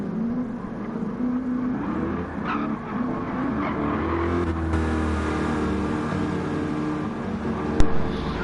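Several GTE race cars at the start of a 24 Hours of Le Mans online race in a racing game, engines droning and revving together with tire skids and a sharp knock near the end.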